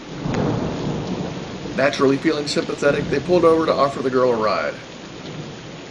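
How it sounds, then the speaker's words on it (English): Thunderstorm with heavy pouring rain at night, a low rumble and steady rain wash running beneath someone narrating throughout. "One night during a bad thunderstorm"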